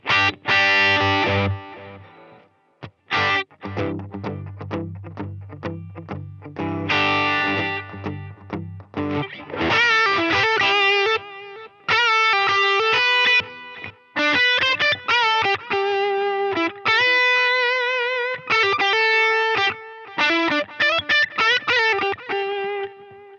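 Electric guitar through a Line 6 Helix with heavy distortion and echoing delay plays chords and then a rhythmic, choppy riff, loud and close, with no talking.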